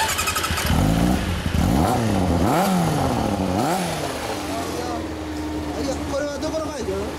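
Yamaha 400R motorcycle with a Yoshimura exhaust revving repeatedly up and down at close range, loud and rough, then settling to a lower idle while people talk over it.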